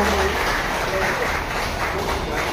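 Audience applause at a Diwali Pahat celebration: dense, steady clapping from a crowd filling the whole moment without pause, moderately loud and even throughout.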